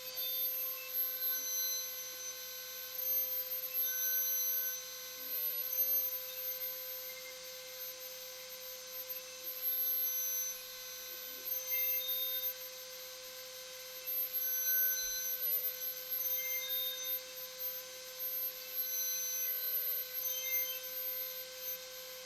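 A Dremel rotary tool runs steadily for the whole stretch, used while crafting Lady Deathwing cosplay parts, giving a constant high-pitched whine with sharp tonal overtones that stays fairly even in loudness, heard alone with no talk.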